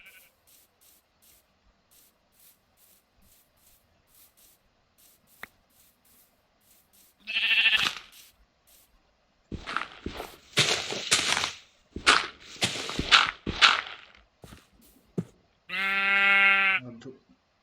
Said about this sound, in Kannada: ಇನ್ನೊಂದು ಕುರಿ ಎಲ್ಲೋ ಸೌಂಡ್ ಬರ್ತೈತಲ್ಲ.